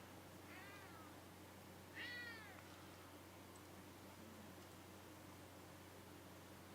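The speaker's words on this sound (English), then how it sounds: "Oh, and there's the cat." A cat meows twice indoors, two short rising-and-falling cries a second apart, faint against a steady background hiss and electrical hum.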